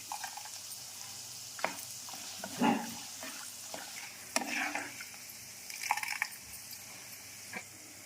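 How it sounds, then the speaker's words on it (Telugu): Mustard seeds with peanuts spluttering in hot oil for lemon pulihora: faint, scattered pops and crackles come at irregular intervals over a quiet sizzle, with no talking. "వేసేసాను ఆవాలు చిట్పటా చిట్పటా అనాలి"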